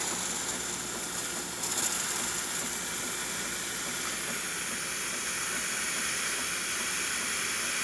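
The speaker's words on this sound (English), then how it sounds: "As you can see, steam is coming out nicely out of one" The steam wand of a Jura Impressa E8 coffee machine gives a loud, steady hiss that runs the whole time, with a brief surge near the start.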